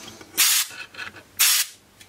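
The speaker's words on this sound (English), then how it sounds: "So just get myself a can of canned air." Two loud, sharp hissing bursts of canned air blown into a Sapphire Radeon HD7950 graphics card to clear out dust, each lasting about a quarter second, close up with a brief pause between them.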